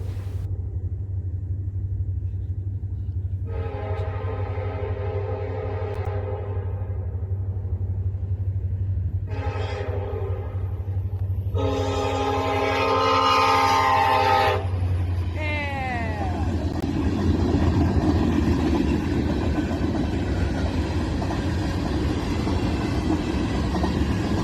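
Norfolk Southern train NS69N, led by a single locomotive, NS 1073, sounds its horn in three loud blasts of increasing length over a steady engine rumble, then the heavy rolling roar of the cars passing close by.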